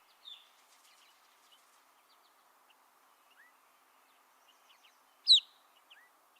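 Western type 1 finch calls: a few short, thin, pure-tone whistled notes spaced seconds apart, one noticeably louder, over a quiet background with a faint, steady insect-like hum.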